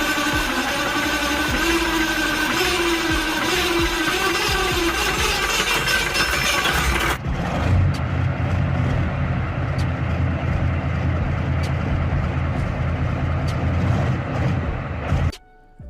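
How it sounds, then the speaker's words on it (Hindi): A military tank engine runs with a loud, steady roar for about seven seconds, then drops to a lower rumbling idle that continues before cutting off abruptly near the end. "दोस्तों अब देखिए कि एक टैंक का इंजन किस तरीके से शुरू होता है।"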